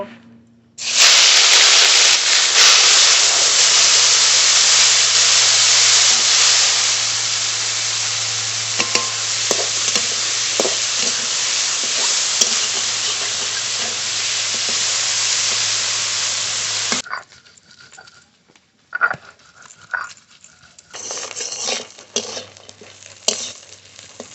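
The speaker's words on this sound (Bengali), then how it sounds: "এবার মাছ ভেজে নেব" Fish rubbed with salt and turmeric fries in a pan, a loud, dense sizzle roaring steadily for about sixteen seconds, then giving way to quieter crackles and scattered scrapes of turning the pieces.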